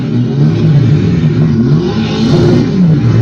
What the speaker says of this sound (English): The driver decided to turn on the drift, and started drifting his way through the police cars.